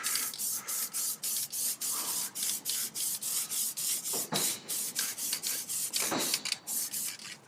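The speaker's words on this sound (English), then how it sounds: "I'm gonna spray this with the spray adhesive" Spray adhesive is applied to a paper stencil in a quick run of short, evenly spaced hissing bursts that sound close and fairly quiet, with a couple of brief rustles between them.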